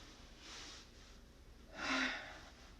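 Breath released during a yoga exercise: a soft exhale, then a louder, breathy rush of air a moment later, heard close and alone over quiet room tone.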